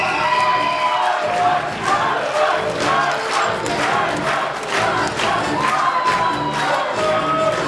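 A university KVN festival gala concert crowd cheers and shouts energetically, a loud continuous roar of many voices with whoops rising throughout.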